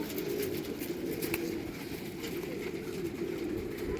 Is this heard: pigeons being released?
yes